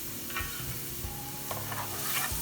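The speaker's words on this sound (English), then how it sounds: "Just add the garlic in there and start frying the garlic" Garlic sizzles and crackles steadily in hot oil, with occasional stirring scrapes in a pan, close and continuous.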